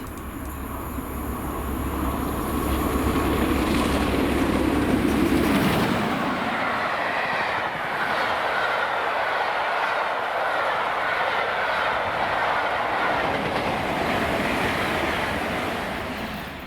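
A charter train from York to Edinburgh Waverley, with locomotives 46115 and 47746 at either end, passing the lineside at speed: a loud engine roar that gives way to a long, steady rumble and rush of coaches.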